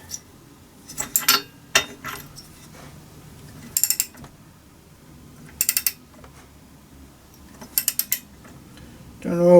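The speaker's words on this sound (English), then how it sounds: "So let me fit the spark plug," New spark plug screwed into a Qualcast Classic 35s lawn mower, heard as short clusters of close, crisp ratcheting clicks separated by pauses, ending with a louder knock.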